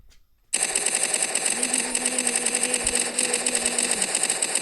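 Rapid automatic gunfire in the Free Fire battle game, a steady, dense stream of shots that starts abruptly after a brief quiet moment and runs continuously and loudly to the end, with no talk over it.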